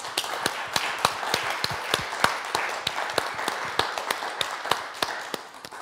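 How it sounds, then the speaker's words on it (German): Audience applause at a German commemorative event honoring a family of musicians: sharp, distinct individual claps in a fairly regular rhythm, close and clear, thinning out toward the end without speech. "Euer Applaus."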